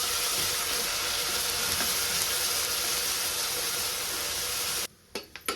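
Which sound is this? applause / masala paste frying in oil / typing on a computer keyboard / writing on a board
masala paste frying in oil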